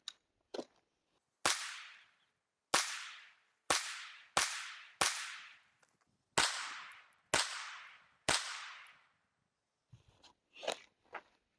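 Sig P322 .22 pistol fired at an outdoor range: about ten sharp, loud cracks with short ringing decays, irregularly spaced a second or so apart, followed by quieter clicks and handling noises.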